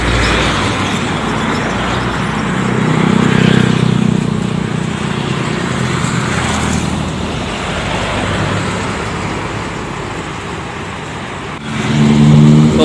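A Jetbus 5 coach of the Hadi Mulyo Raya line drives along a road on the Purwodadi route, its engine rumble steady and fairly loud throughout amid general traffic noise, swelling again near the end.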